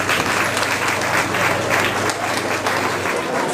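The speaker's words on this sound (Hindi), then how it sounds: "आप खड़े होकर जोरदार तालियों के साथ इसका स्वागत करें" A standing audience at a Pasmanda Muslim community gathering applauds loudly and continuously, a dense wall of clapping that holds steady for the whole stretch.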